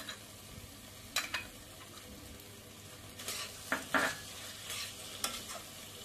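Soybean chilli with tomato ketchup and green chilli sauce stir-fried over a full flame, giving a steady low sizzle broken by a few sharp scraping strokes of a spatula against the pan, with no voices.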